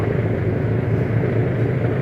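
A small pump boat passes at sea near the Batangas pier, its steady engine rumble filling the clip as a continuous low drone, loud and close, with no talk over it.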